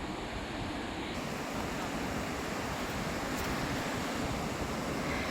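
Sea waves wash ashore at a rocky beach in Kannur as a soft, continuous surf hiss heard from a short distance, with a low rumble of wind on the microphone underneath and no clear individual breaks.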